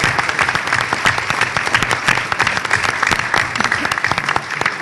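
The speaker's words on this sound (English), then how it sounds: "You have 4 more claps from the previous ones" Audience applause fills a hall at an education event's closing ceremony, a dense steady wash of many hands clapping throughout, loud and continuous with no talk over it.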